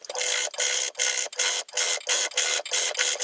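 A sewing machine back stitches the side seams of a skirt in short, rhythmic bursts, about eight quick pulses with brief gaps between them, close and fairly loud.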